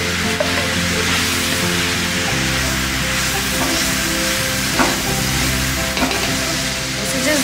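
Garlic and green chili paste frying in oil in a pan, a loud, steady sizzle with continuous stirring, holding evenly from start to finish with a slight shift partway through.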